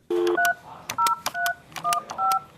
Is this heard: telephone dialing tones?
yes